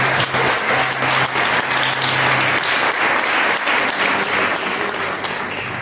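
A church congregation gives a loud, dense round of applause that carries on steadily for several seconds, close and full, tapering slightly at the end.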